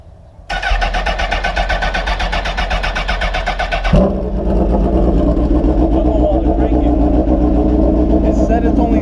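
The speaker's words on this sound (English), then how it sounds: "This is really the first legit cold start with this new battery." A motorcycle with a newly fitted battery makes its first cold start: the starter cranks briefly, then the engine catches with a thump and settles into a loud, steady idle close by.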